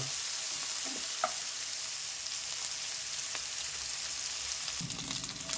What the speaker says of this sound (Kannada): ಈಗ ಕರೆಕ್ಟಾಗಿ ಫ್ರೈ ಆಗಿದೆ ಇದಕ್ಕಿಂತ ಜಾಸ್ತಿ ಫ್ರೈ ಆಗೋದು ಬೇಡ